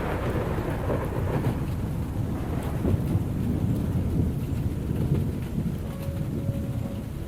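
Steady, dense rainfall pours down without a break, a close and even wash of drops with a deep thunder-like rumble rolling underneath the whole time.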